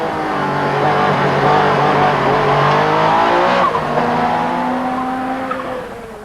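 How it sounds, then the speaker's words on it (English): A race car laps an airfield test track at the limit in 1989, its engine note rising and falling steadily through gear changes while tires squeal under cornering, loud and close throughout. "Lap after lap through the morning, I have to drive in exactly the same way"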